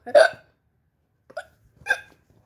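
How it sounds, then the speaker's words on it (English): Three hiccups from a voice, the first louder and the next two softer and spaced about half a second to a second apart, close and alone in quiet surroundings. "Sonic, I think you had the hiccups?"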